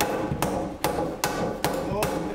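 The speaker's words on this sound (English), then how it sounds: "you need to hit the bottom of that nail post with a hammer" Hammer striking the bottom of a nail post while fitting a replacement staircase in a 100-year-old cottage, five sharp, evenly spaced blows, close and loud, over a steady background hum.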